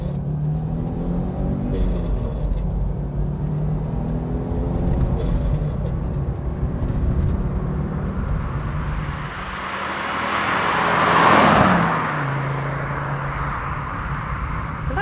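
A 1986 Audi Quattro's 200-horsepower turbocharged five-cylinder engine drones steadily from inside the cabin, then climbs in a muted rising pull through the revs before settling back, with no talk over it.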